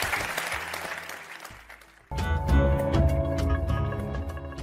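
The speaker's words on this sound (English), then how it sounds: "One last huge round of applause." An audience at a live talk breaks into loud, sustained applause with some cheering, following a quieter stretch of crowd noise.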